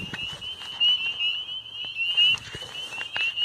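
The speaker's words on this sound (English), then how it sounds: "And this is our second spring peeper of the night. This guy was just calling." Spring peepers call at a pond at night, forming a steady high-pitched chorus of shrill peeps that carries on throughout with no talking.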